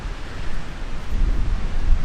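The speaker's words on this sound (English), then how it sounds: "It's a little windy though" Steady low wind rumbles and buffets across the microphone, swelling louder toward the end with no voices.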